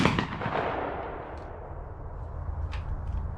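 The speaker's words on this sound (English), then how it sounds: "So we're going to go ahead and fire now." A Civil War re-enactor's musket fires a single loud, deep blast at the very start, its boom rolling and fading over a few seconds into a low outdoor rumble, with a couple of faint distant clicks.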